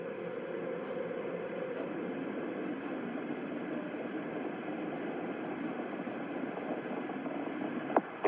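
Space Shuttle Challenger's engines roaring during launch, a steady, dense, distant rumble that holds level throughout, with a couple of brief crackles near the end.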